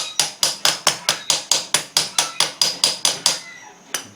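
A hammer taps the engine plate of a Honda Express scooter with oil injection: about fifteen sharp metallic knocks in an even, brisk rhythm, close up, then a pause and one last tap.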